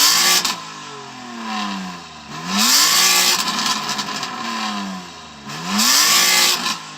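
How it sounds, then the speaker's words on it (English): A BMW M3 engine with an aftermarket exhaust revs hard three times in succession, each rev climbing and falling, loud and close with no talking. "I'm going to rev up my M3"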